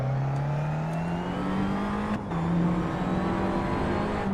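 Tatuus Formula 4 race car, Renault-based, in Assetto Corsa played in VR, its engine holding a steady high-pitched drone that climbs gradually through a gear, loud and close with no talk.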